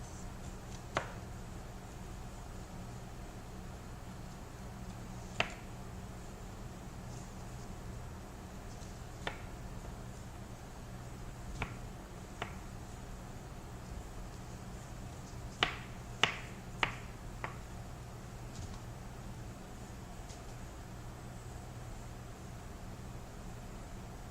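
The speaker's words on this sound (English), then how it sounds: "cutting off my corn pieces, getting ready for the saute" A knife cuts pieces of corn on a board in a restaurant kitchen, giving sparse, quiet, sharp taps at irregular intervals, with a small cluster of quick cuts near the end over faint background hum.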